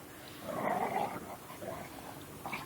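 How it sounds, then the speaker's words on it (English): A black dog gives a playful growl in the snow, a low grumbling rumble that swells and fades in a few uneven bursts from close by, with no talking over it. "That's his play growl."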